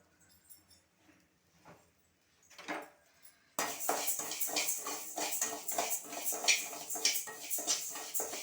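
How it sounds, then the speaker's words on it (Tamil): Moong dal roasting in a pan for payasam, heard as busy scraping and clinking of a utensil against metal that starts abruptly after a few quiet seconds and continues steadily and close, following soft kitchen sounds and faint talk. "பாசிப்பயிரை கொஞ்சம் வறுத்துக்கணும்."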